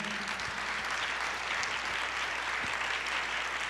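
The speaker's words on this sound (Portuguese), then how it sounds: "pode aplaudir ao Senhor" Steady applause from a church congregation, moderately loud and sustained, with faint low hum beneath and no clear talk.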